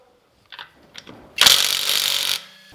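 An impact wrench spinning lug nuts off a Lexus ES 350, preceded by a few light metallic clicks, then one loud, sustained rattling burst of about a second before stopping, close and alone.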